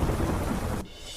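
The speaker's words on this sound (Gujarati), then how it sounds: "ભારે પવન અને ગાજવીજ સાથે પડ્યો ધોધમાર વરસાદ" Heavy rain with thunder and strong wind in Jhunjhunu district, Rajasthan: a loud, broad roar of downpour and rumble that cuts off abruptly after a brief burst.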